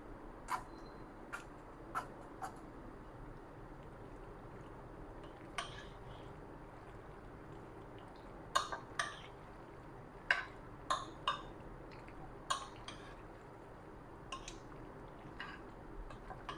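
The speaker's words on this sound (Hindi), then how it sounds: "अच्छी तरह से मिक्स करें ताकि सारी क्रीम इक्वली हो जाए।" A spoon clinks against a bowl while cream is stirred into Russian salad, sparse sharp ticks and taps in irregular clusters over quiet background, with soft wet mixing between them.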